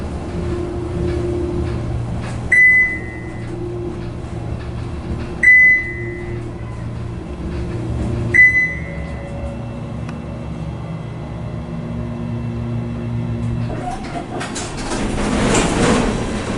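A Fujitec hydraulic elevator at a 1970s resort building runs steadily with a low, constant hum, broken by three bright door-chime dings spaced a few seconds apart, before a louder rushing whoosh rises near the end.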